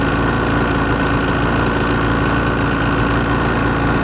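Polaris 800 engine with 800 cc displacement, running on E10 ethanol fuel, idling steadily at close range with a constant buzzing drone and no talk.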